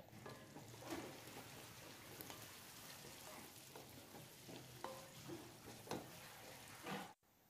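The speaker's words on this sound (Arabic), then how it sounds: "أقلي فيها البصل" Steady crackling sizzle of onions frying in hot fat, with occasional stirring scrapes, close up and continuous.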